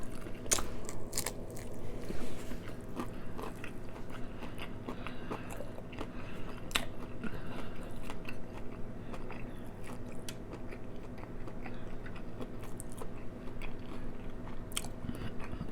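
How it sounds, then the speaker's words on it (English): Close, continuous crunching as crispy chicken legs are bitten and chewed during an eating challenge, with crackly bites and wet chewing running steadily throughout and no talking. "That first bite, that crunch."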